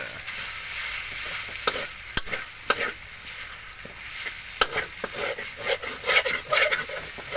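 Rice noodles, pork and egg sizzling in a hot pan while being stirred, with scraping clicks of the utensil against the pan.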